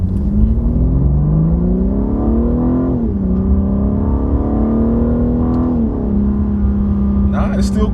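A BMW G80 M3 in Sport Plus accelerates hard with a loud, close engine note that rises steadily, drops sharply at two gear shifts, then climbs again, with a rumbling exhaust throughout.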